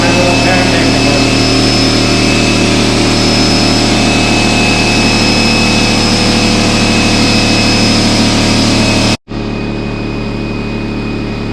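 A Fortress air compressor from Harbor Freight runs close by with a loud, steady mechanical drone that cuts out briefly for an instant before resuming.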